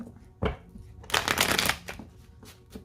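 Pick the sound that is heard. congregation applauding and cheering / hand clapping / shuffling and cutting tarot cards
shuffling and cutting tarot cards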